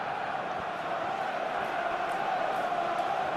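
Stadium crowd noise from the football video game PES 2021, heard as a steady, dense roar of massed voices with a faint rising swell, continuous and fairly loud with no clear individual claps.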